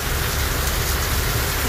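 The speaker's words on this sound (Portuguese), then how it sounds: "Muita chuva." Heavy rain pouring down during a fishing trip on the Rio Negro in the Amazon, a dense, loud, steady hiss and patter with no pauses.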